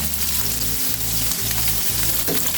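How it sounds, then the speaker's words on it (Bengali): Rohu fish frying in a pan, with a loud, close, continuous sizzle and crackle that holds steady throughout and no talk. "এখন আমি মাছটাকে সুন্দর করে ভাজবো।"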